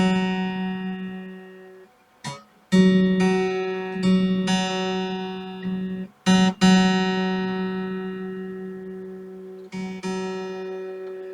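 Single guitar notes are plucked one at a time and left ringing, the pitch shifting slightly between plucks as a string is tuned.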